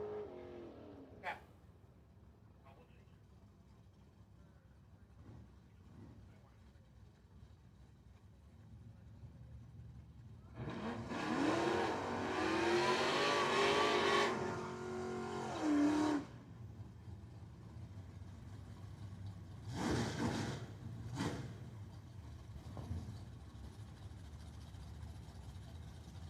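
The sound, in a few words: Ford Mustang and WS6 Trans Am drag racing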